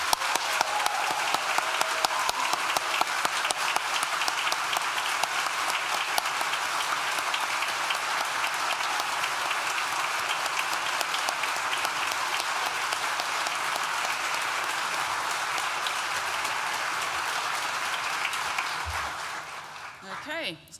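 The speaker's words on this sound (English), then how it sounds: "So big applause for everybody, please." Large graduation ceremony audience at NTU, School of Arts and Humanities, gives graduates a long, loud, continuous round of applause that holds steady before tapering off near the end.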